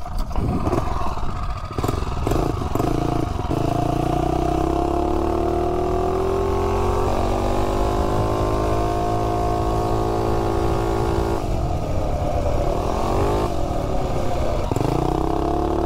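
A mini bike's small engine with a dirty carburetor revs continuously up close, its pitch rising and falling as the throttle changes, with a rough, sputtering edge and clattering at the start.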